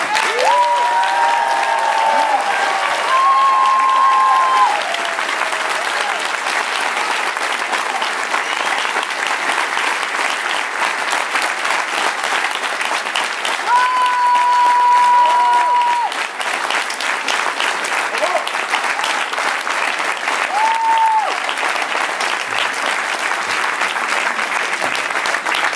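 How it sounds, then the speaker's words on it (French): Sustained applause from a large audience at a Cannes 2019 meeting with Alain Delon, steady and dense throughout, with a few voices calling out over the clapping. "maintenant on va faire un vrai applaudissement"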